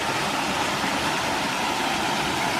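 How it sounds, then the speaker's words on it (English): A waterfall on a creek in Bankhead National Forest, Alabama, pours as a steady, close, broadband rush of falling water with no pauses or other sounds. "Here's waterfall number 8."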